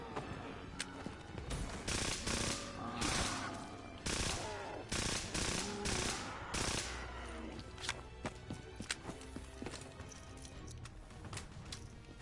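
Bursts of rapid gunfire from a weapon in the Black Ops video game, repeated sharp volleys in the first half that fade to sparser shots over a low background soundtrack.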